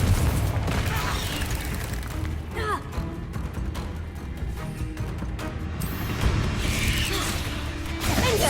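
Confringo fire-blast spell exploding in Hogwarts Legacy, heavy booming crashes and clattering impacts over a rumbling low background, recurring across the stretch amid busy game noise.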